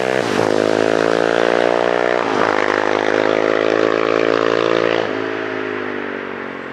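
A Kawasaki KLX450R supermoto's single-cylinder engine runs loud and close, holding a strong buzzing drone with brief throttle dips and recoveries before easing off slightly at the end.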